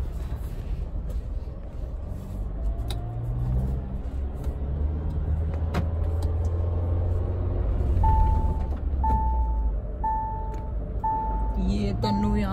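A Mahindra Thar SUV driven with five people aboard: low, steady engine rumble from inside the cabin, a slight swell partway through and a short run of repeated beeps near the end.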